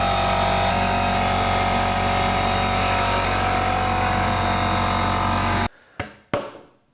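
A power saw cuts half-inch plywood with a loud, steady grinding whir that holds close and constant, then stops abruptly, followed by a few sharp knocks and clatters.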